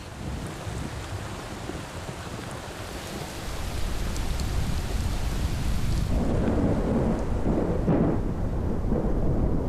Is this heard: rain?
yes